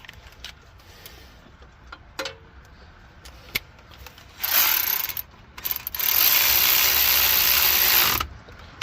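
A ratchet tightens a 10 mm bolt holding the speed sensor on a Kia Sedona (2015-2021), with a few scattered clicks and knocks, then two bursts of rapid, close ratcheting.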